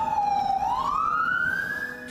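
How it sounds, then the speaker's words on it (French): An ambulance siren wails on its way to a roadside emergency, one steady tone sliding smoothly upward in pitch, loud and clear with no talk. "Gyrophare et sirène sur le toit, arrivée sur place en 5 minutes chrono."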